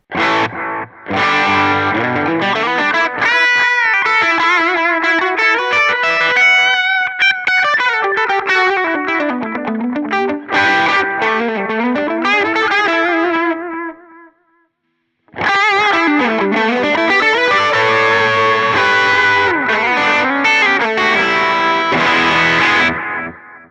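An overdriven electric guitar plays a sustained lead line through delay, its echoing repeats loud and continuous, pausing briefly before resuming.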